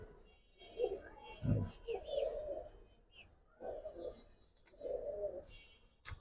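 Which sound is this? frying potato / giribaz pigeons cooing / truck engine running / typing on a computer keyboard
giribaz pigeons cooing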